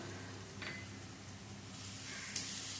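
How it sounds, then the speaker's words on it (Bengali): Ground spices with turmeric and Kashmiri chilli powder for a fish curry sizzle and hiss steadily in a pan, a soft continuous frying bed with a couple of brief stirring scrapes. "মশলাটা ভালো করে কষিয়ে নেব তিন চার মিনিট ধরে"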